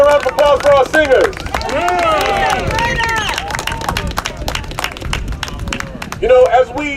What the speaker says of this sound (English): Give another round of applause for our singers.